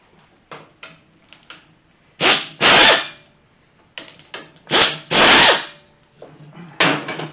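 Several short bursts of a power tool or impact driver removing 10mm bolts from the head of a Kawasaki KZ400 engine, with two loud, longer whirring runs in the middle and smaller bursts and clicks around them.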